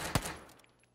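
A single sharp gunshot from a video game cracks near the start, then decays into a fading tail, brief and moderately loud against quiet surroundings.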